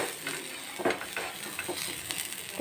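Dosa batter fries on a hot pan with a soft, steady sizzle, joined by light scraping and spreading sounds, close but fairly quiet, with no speech.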